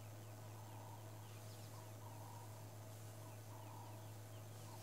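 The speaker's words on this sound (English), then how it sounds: "there's an Egyptian goose that was calling then" An Egyptian goose calls during a morning game drive, giving a series of faint, distant honking cries over a steady low engine hum.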